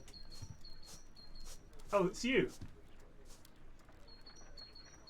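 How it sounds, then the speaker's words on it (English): Great tit song outdoors, thin high repeated notes recurring faintly in the background on and off, with a louder burst of bird chirping mid-clip and a voice speaking briefly over it. "It's a great tit."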